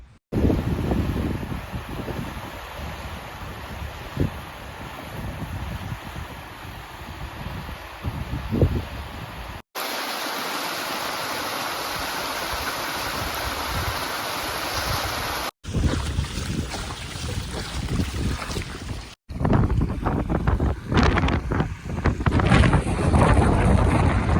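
Strong wind blows across the summit of Agasthyarkoodam, a mountain peak, buffeting the microphone with a loud, continuous roar broken into several segments by abrupt cuts.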